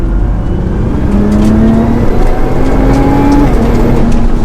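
A stock R35 Nissan GT-R accelerates hard in third gear, its engine tone climbing steadily as speed rises, loud and close with a continuous road roar underneath.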